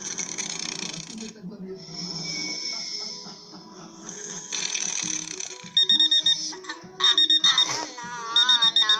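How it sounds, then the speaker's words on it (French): A morning alarm clock on a school day rings in a bright, chopped electronic pattern of repeated bursts during the second half. Earlier there is muffled talk and movement, and the ringing ends in a warbling tone. "c'est le réveil"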